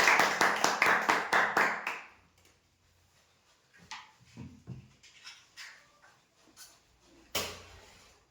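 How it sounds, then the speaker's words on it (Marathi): A short burst of close applause for a guest drawing a lottery at a prize-draw event, fading into quiet with scattered knocks and shuffling, then one more brief clap near the end. "जोरदार टाळ्या होत्या यांच्यासाठी"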